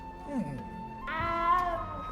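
A cat meows in the video game Hogwarts Legacy, with a short rising mew and then a longer drawn-out cry, heard close over the game's background ambience.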